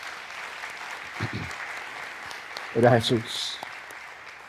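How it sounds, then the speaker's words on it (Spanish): A church congregation applauds in a steady wash of clapping while someone speaks briefly over it. "Le doy un fuerte aplauso a Él."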